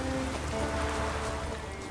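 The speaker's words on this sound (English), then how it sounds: "Take a soothsayer to know when it's raining." Steady rain falling in The Witcher 3: Wild Hunt near a tiny village, a dense continuous hiss of drops on surfaces with a faint low tonal hum beneath, no voices.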